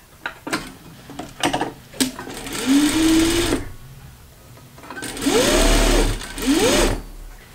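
Sewing machine running gathering stitches at a 3/8 inch seam for 18th-century trimmings, loud and close in two sustained whirring runs with quick starts and stops, separated by short pauses and light handling taps.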